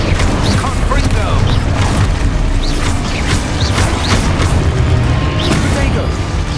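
Confringo blasting spells erupt in Hogwarts Legacy combat, loud sustained booming blasts and crackling bursts layered over dense game noise, with a voice shouting the spell names.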